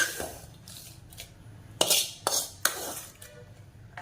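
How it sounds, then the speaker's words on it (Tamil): Metal pot and utensil clatter as a hot turmeric oil tempering is poured into dal for paruppu kuzhambu: a few sharp clanks and short bursts of sizzle, moderately close, with quiet gaps between. "இப்போ பருப்பில் வந்து தாளிச்சு வந்து போட்டுக்க போகிறேன்."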